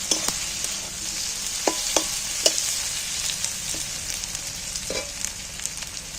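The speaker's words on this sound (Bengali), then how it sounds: "টমেটমগুলো পেঁয়াজের সাথে একই সাথে ভেজে নিচ্ছি" Chopped tomatoes and onions sizzle together in a hot pan while being fried for an egg dish, a steady loud hiss punctuated by occasional scrapes and clicks of stirring, with no voices.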